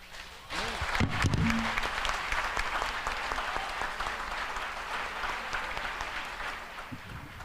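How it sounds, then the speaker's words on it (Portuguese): A congregation at a night prophetic conference applauds for the Lord, sustained dense clapping that swells and holds steady for several seconds, with voices and a few low thumps mixed in. "Vamos aplaudir o Senhor por isso?"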